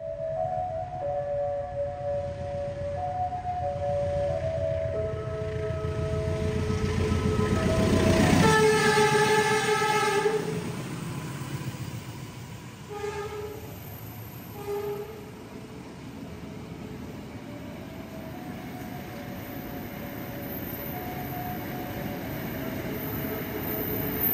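A Logawa passenger train on Indonesian rails rolls with a steady, heavy rumble, sounding a long horn blast midway, then shorter horn tones over the continuing wheel noise.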